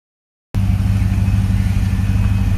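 Trailblazer SS truck engine starts abruptly out of silence, then idles with a steady, loud, deep rumble that continues unbroken with no voices.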